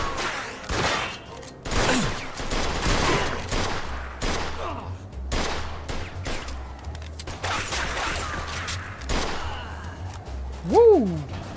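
Sustained gunfire erupts in a video game shootout with police in Mafia II, with rapid volleys of loud shots cracking in bursts over several seconds, mixed with a few brief voices.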